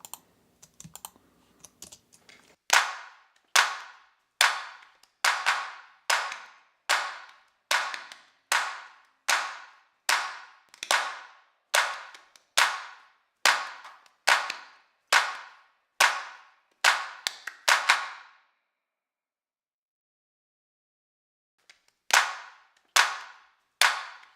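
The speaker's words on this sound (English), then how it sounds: "So you can see that I just rolled off the low end on these clap tracks." Sampled clap tracks from a country song mix with the low end rolled off, crisp isolated claps struck in a steady even rhythm, one after another, then a pause before a few more.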